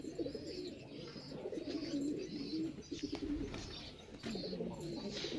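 Several pigeons, including an old-breed Jounsra pigeon, coo in steady overlapping low calls at a pigeon setup in Peshawar, close and continuous, with some higher chirps and bird calls mixed in.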